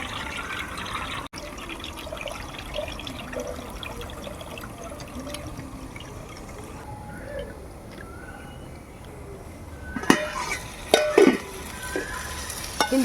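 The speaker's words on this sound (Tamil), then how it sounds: "கிண்டி விட்டுக்கலாம் ஃப்ரெண்ட்ஸ்" Eggplant kuzhambu, a Dindigul-style oil brinjal curry, stirred in a pan with a steady low sizzle and soft scraping, then a few louder clanks and scrapes of the spoon near the end.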